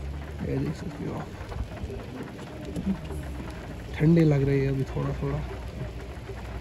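Steady rain falls outdoors in Gulmarg amid cold, worsening weather, a soft continuous hiss that sits beneath someone talking close to the microphone throughout.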